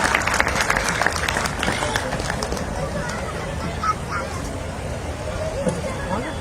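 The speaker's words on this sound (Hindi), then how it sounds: "जोरदार तालियों से स्वागत करें लक्ष्मण यादव जी।" Audience applause welcoming Professor Laxman Yadav on stage at a collective Buddha Jayanti celebration in Bhilai, Chhattisgarh, a moderate steady clatter of hands with crowd murmur underneath, fading slightly as it continues.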